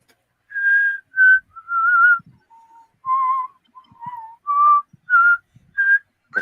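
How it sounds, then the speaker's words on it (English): Someone whistles a melodic tune of about ten short, clear phrases, close and fairly loud, with brief silent gaps between them. "You're good at whistling."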